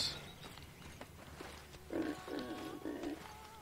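Pig oinking in the Viking-era game Mount & Blade: Viking Conquest, a short run of three grunting oinks close together in the middle of a murmur of game ambience.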